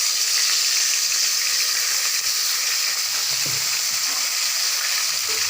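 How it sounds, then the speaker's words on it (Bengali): Bairali fish frying in a wok, giving a loud, dense, continuous sizzle of hot oil that stays close and even from start to finish. "এবারে ভাজবো বৈরালি মাছ। তো বৈরালি মাছটা কড়াইতে দিয়ে দিব।"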